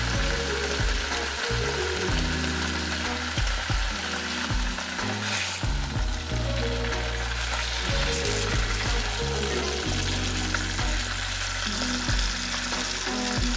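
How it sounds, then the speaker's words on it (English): Fish searing in hot oil in a pan, a loud, continuous sizzle that fills the scene, broken by occasional clinks and scrapes from the pan, with no voices. "I don't wanna cook it, I just wanna sear it."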